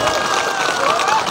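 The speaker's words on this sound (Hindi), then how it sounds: "ताली तो बजा दो यार" A crowd at an election rally breaks into a loud, dense wash of clapping and cheering, with voices mixed into the noise throughout the short burst.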